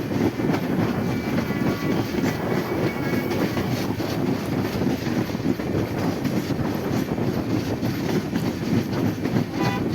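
A passenger train rolls steadily toward Ishwardi station, its loud, continuous rumble and wheel clatter filling the whole stretch, heard from on board with no talk.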